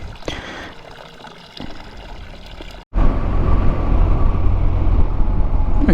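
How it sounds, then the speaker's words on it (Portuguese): Fresh spring water from a mountain source runs into small bottles being filled, a steady close trickle and splash that starts faint, then swells into a loud continuous gush after a brief pause midway. "aproveito para encher aqui as garrafinhas de água"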